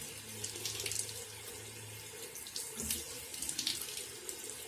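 Tap water runs steadily into a sink during face washing, with a close continuous splashing stream and a few brighter splashes from hands in the water.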